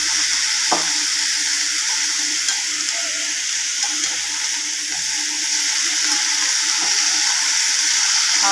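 Arai keerai greens sauté and are stirred in a pan, giving a steady close hiss of frying with faint scraping of the spoon throughout.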